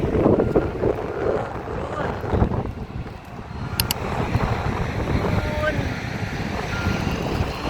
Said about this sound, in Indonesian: Anginnya besar yang sangat panas.